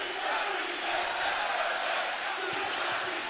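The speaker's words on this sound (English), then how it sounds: "You can hear the crowd." A basketball arena crowd roars during a North Carolina at Clemson NCAA men's game, a continuous, loud wall of cheering voices that holds steady from start to finish.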